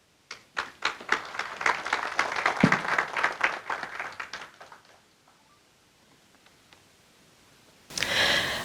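Applause from a seminar audience: a burst of clapping that swells for several seconds then fades out, with a brief return of louder clapping at the very end.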